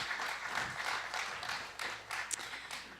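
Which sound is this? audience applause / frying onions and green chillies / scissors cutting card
audience applause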